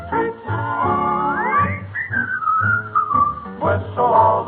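Someone whistles a bright, sliding tune, holding long notes and gliding between pitches up close, with a low, steady backing underneath.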